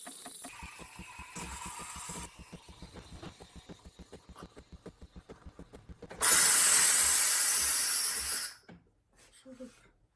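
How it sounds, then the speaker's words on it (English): Steam wand of a Gaggia automatic espresso machine steaming milk, with a loud sustained hiss for a couple of seconds that cuts off abruptly, preceded by rhythmic mechanical pulsing and quieter machine noise. "so look, now the milk is finished steaming"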